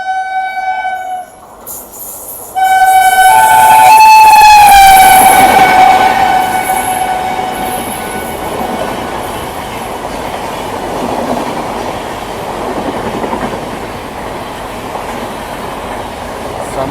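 The 12301 Howrah New Delhi Rajdhani Express passes on the Kanpur to Delhi section, a loud close horn blast followed by a rushing roar and rhythmic clatter of coaches that fades slowly.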